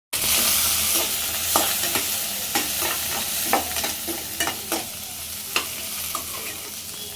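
Cinnamon, cloves and pepper frying in hot oil, a close, steady sizzle broken by repeated scrapes and taps of a spoon stirring the spices.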